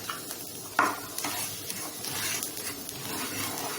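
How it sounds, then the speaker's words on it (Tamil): Powdered beaten rice (aval) fries in ghee in a pan for halwa, giving a soft, continuous sizzle with scraping stirs and a sharp clink of a utensil early on. "அதே நெய்யில் நம்ம பொடி பண்ணி வச்சிருக்கிற அவளை போட்டுடலாம்."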